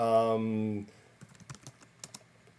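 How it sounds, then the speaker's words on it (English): Keys clatter on a computer keyboard in a quick, irregular string of soft taps, following a short spoken phrase. "I can't type and talk at the same time"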